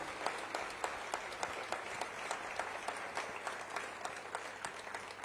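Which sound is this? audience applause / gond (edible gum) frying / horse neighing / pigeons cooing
audience applause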